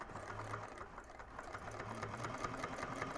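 Sewing machine stitching a seam on a convertible bag, a quiet close whirring hum with soft needle ticking that speeds up slightly toward the end.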